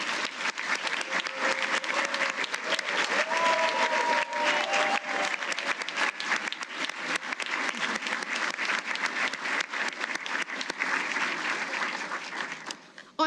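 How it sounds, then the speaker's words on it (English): An audience at an annual employee awards ceremony gives a long, sustained round of applause for the award winners, broad and even throughout with scattered voices underneath, fading slightly toward the end. "Please join me in one more round of applause for our award winners."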